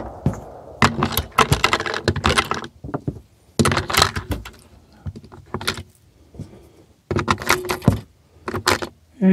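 Close-up plastic clicks, snaps and rattles come from a Wildgame Innovations Terra 12 trail camera as its battery door is opened and batteries are loaded, in irregular bursts with short quiet gaps.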